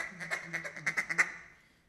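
A duck call blows a rapid feed call imitating mallard ducks feeding on the water, a quick burst of about a dozen clipped quacks over two seconds, close and fairly quiet, fading at the end.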